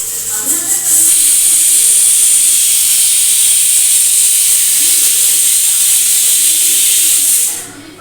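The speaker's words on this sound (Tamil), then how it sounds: "உருளைக்கிழங்கு பொரியல் செய்கிறதுக்காக தான் உருளைக்கிழங்கை வேக வச்சிட்ருக்கேன்" Steam hissing steadily from a pot of potatoes boiling on a home kitchen stove, a loud, continuous close hiss that fades out at the end.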